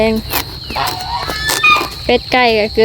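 Ducks and chickens cluck and quack and a rooster-like call rises among the farmyard fowl, several birds calling close by in short, irregular bursts.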